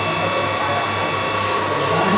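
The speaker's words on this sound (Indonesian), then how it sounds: "Kita perintahkan print pakai software akselerator TSR, tapi jangan lupa kita nyalain dulu vakumnya." A TSR Exa DTF printer runs a print job with its vacuum unit switched on, giving a steady, close-up mechanical whir and hum that holds even throughout with no speech.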